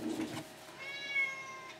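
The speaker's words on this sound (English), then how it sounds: "yeah, the cat's here" A cat meows close by in a quiet room, one drawn tonal call after a brief low murmur at the start.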